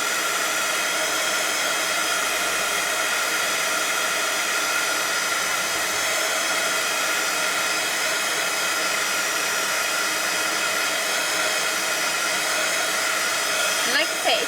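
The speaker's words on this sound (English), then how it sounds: "Let's blast it. So I'm going to dry that off." Heat tool blowing steadily and loudly to dry a freshly worked journal page, a constant close airflow roar with no break and no talk.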